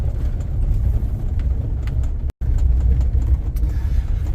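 A vehicle engine pulling away at a farm after seed was unloaded, a loud steady low rumble close by that continues throughout with one brief dropout, no talking.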